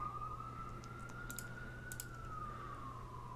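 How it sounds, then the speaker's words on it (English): A police siren wails faintly outside from a nearby station, its tone slowly rising and falling in the distance, while keyboard and mouse clicks tap closer at intervals. "hear the police in the background because I live near a station"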